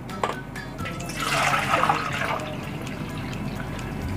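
Clean water poured from a dipper into a Teflon frying pan in a home kitchen, a steady broad splashing pour that swells midway and then settles into a continuous trickle, with no talking.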